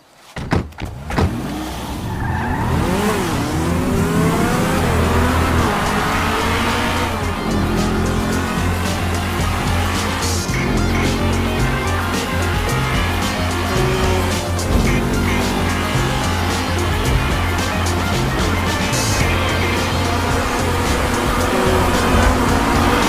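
Cars race in GTA 5, with engines revving hard and tires squealing as they pull away. The loud, continuous roar and skidding fill the whole stretch with no talking.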